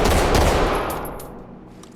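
Rapid gunfire from an MK-5 handgun in the video game Ready or Not, a loud dense burst of shots dominating the first half and trailing off into faint echoes, with no talking.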